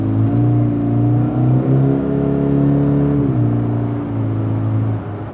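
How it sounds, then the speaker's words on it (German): A Kia Sportage 1.6 CRDi mild-hybrid in sport mode plays a synthesized engine sound, a loud, steady humming drone with stepped tonal shifts like rising and falling revs, heard alone and close. "Electronic Sound Synthesis oder wie es in den Fahrzeugeinstellungen heißt, der künstliche Motorsound."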